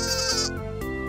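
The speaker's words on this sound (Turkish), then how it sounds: "Bu bir kuzu." A lamb bleats loudly and close by in one short, wavering call with nothing else around it.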